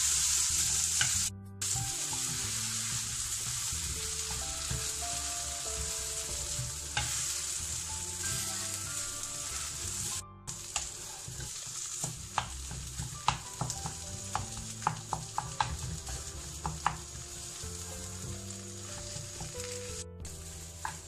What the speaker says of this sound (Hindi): अब पोटैटो को अच्छे से मैश कर लेंगे पोटैटो मैशर से